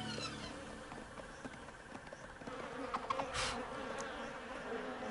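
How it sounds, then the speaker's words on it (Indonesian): Cartoon flies buzzing in a continuous, fairly close drone, with a louder swell of buzzing near the end and no voices. "Aku sudah muak dengan lalat mengerikan ini."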